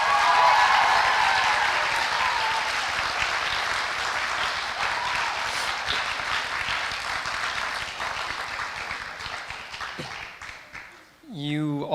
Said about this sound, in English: so can we get another round of applause for everybody?